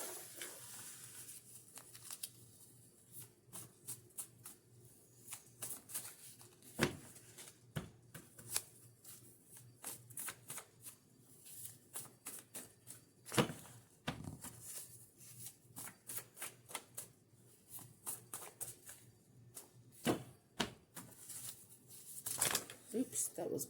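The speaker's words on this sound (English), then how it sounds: "Let me pull out some index cards on that one" Index cards being pulled out and shuffled, a long run of close, crisp riffling and slapping bursts with an irregular rhythm, quietly recorded, with no other sounds over them.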